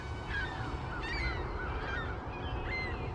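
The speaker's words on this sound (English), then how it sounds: "Got all the seagulls here today, flying around with my plane." Seagulls wheeling over a field where a radio-controlled airplane flies, their harsh honking calls repeating in overlapping bursts at moderate distance over a steady background rumble.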